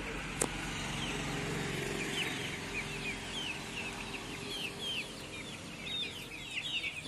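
Aseel cross chicks in a shed, lively after drinking medicated water, keep up a steady chorus of high, rapid peeping over a constant low background hum, with one brief knock early on.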